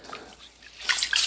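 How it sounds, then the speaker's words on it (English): Water pouring and splashing in a bowl of rice being washed to rinse off the starch, a soft trickle swelling into a louder, steady rush near the end, no voices. "you have to wash the rice to take the starch"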